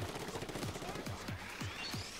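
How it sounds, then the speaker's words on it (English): Repeated shooting of an ink weapon in the Splatoon 2 video game, a steady series of punchy splats at an even rhythm over busy game music and effects. "Just gotta keep shooting it."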